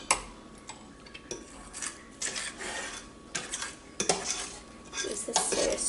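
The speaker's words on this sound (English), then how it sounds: "Use this to scrape the sides, make sure as much of my flour as possible is in there." A utensil scrapes around the sides of a bowl of chocolate mayonnaise cupcake batter, giving irregular clinks, taps and scraping rubs that come close and fairly loud, with no talking.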